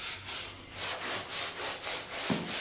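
Sandpaper rubbed back and forth across a thin wooden ski veneer laid over aramid fabric, giving about seven steady, rhythmic rasping strokes, close and fairly loud, with no talk.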